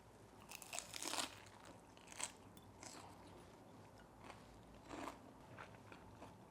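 Someone bites into and chews a crisp bean sprout salad dressed with a seasoning sauce and lemon juice, giving close, quiet crunches in irregular bursts separated by softer chewing.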